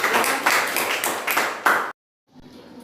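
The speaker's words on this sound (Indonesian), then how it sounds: "silakan tepuk tangan dong buat Karlin" Clapping from a small group of students in an Indonesian nursing practice class, a brief burst of hand claps that stops abruptly, followed by faint room noise.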